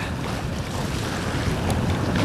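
Steady rush of wind and water against a moving sailboat in the Ionian Sea, with broadband gusty noise and no talking.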